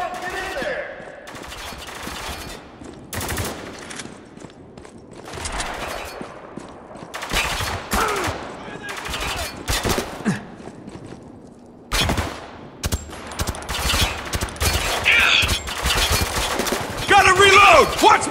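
A chaotic firefight in the video game Spec Ops: The Line, with bursts of automatic gunfire and single shots coming near and far in irregular clusters, loud and echoing, mixed with shouting voices.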